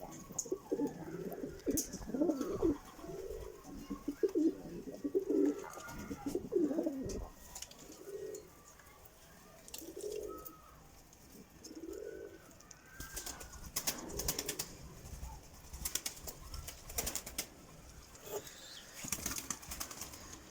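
Adana tumbler pigeons coo in a loft, with a run of soft, rhythmic low coos near the start, then wing flaps and rustling, and faint squeaks from chicks begging their father for food.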